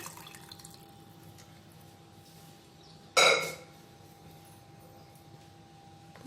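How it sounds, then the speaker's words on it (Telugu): Water poured into cooking tomato and green chili dal, a single short, loud splashing gush in the middle of an otherwise quiet kitchen background with a faint hum. "కొద్దిగా వాటర్ని వేసుకుందాం"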